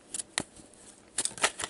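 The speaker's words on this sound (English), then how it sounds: "Let me give it a good old shuffle here." A deck of playing cards is shuffled by hand at a card table, giving two quick riffling bursts, one short and one longer, separated by a brief pause, close and crisp with no talking.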